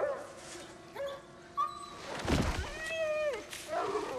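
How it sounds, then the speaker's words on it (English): In God of War Ragnarök, a hurt dog gives several short, high whimpers and yelps, close and fairly faint, with a thud and other game sounds in between. "they did not just hurt the dog"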